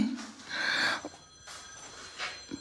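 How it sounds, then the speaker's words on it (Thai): Telephone ringing beside the bed in a horror video game: a few short, bright electronic rings standing mostly alone, with brief gaps between bursts. "เสียงโทรศัพท์ที่มันจะต้องอยู่ตรงหัวเตียง"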